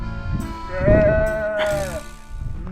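A sheep or goat in the Atlas Mountains of Morocco gives a drawn-out, wavering bleat up close, with brief rustling and shuffling around it.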